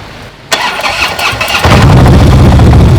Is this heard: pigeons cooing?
no